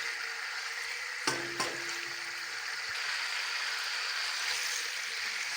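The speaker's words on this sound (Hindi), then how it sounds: "इसको मज़ीद कुछ देर के लिए भूनेंगे ताकि इसका जो कलर वो अच्छी तरह से चेंज हो जाए।" Chicken frying in a karahi gives a steady, close hiss of sizzling oil throughout, with a couple of brief clinks of utensils against the pan early on and no talking.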